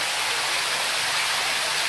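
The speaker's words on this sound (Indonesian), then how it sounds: "tenang dia punya air terjun." A calm waterfall at a mosque gives a steady broadband rush of falling water, soft and continuous without pause, with no voices over it.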